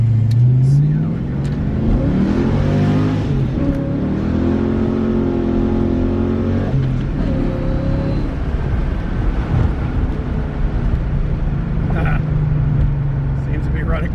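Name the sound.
V8 Mustang Cobra 5.0L Fox Body accelerating on a test drive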